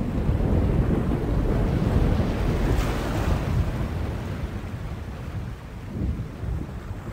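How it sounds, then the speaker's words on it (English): Thunderstorm in the video game The Longest Journey: a loud, continuous roar of rain, wind and rumbling thunder with a swelling crash near the start, the din easing slightly toward the end. "A storm approaches, April."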